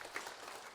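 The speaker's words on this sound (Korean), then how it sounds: "우리 격려의 박수를 한번." Church congregation applauding the choir, a faint, short wash of scattered clapping heard at a distance in a worship hall.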